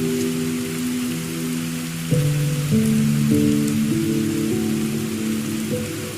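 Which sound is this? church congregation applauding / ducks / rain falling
rain falling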